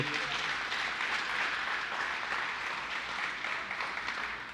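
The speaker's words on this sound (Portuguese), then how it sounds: "Dá um aplauso aí, bem bonito." A church congregation applauds warmly, a dense, continuous wash of clapping from many hands that holds steady for a few seconds with no talk over it.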